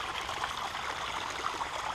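A stream of water trickles through a zoo's ecological reserve on a mountainside, a steady soft babbling wash that carries evenly throughout at moderate distance, with no voices.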